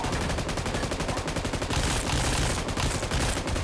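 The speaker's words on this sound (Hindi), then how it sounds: "खैर उसके हाथ पे मैं काफी गोलियां बरसाता हूँ" Dense, continuous rapid gunfire from the video game Free Fire, fired at an Ancient Guardian, loud and sustained, with bursts blending into a steady barrage and no voices.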